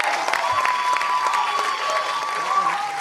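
An audience gives loud, steady applause for a band at a birthday band launch event. The clapping is dense and sustained, with some crowd cheering and a voice faintly underneath.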